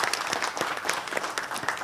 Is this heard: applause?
yes